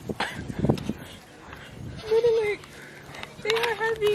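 Baby goats bleat in a few wavering, nasal cries, close and fairly loud, while people talk nearby between and over the calls.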